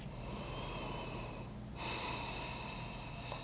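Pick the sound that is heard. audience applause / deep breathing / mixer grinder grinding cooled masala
deep breathing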